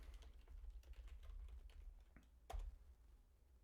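Quiet typing on a computer keyboard while naming a Unity action map, a steady run of light key clicks with a couple of louder taps near the end, recorded close and alone.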